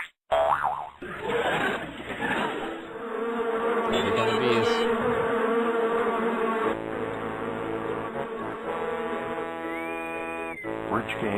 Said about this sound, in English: A swarm of bees from the planet surface is intercepting the ship at this very moment.